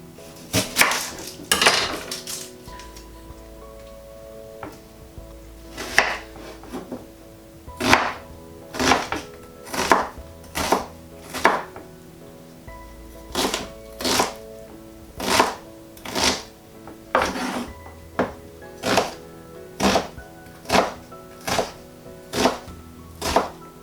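A knife roughly dicing an onion on a cutting board in steady repeated thuds, close and crisp, some strokes in quick bursts.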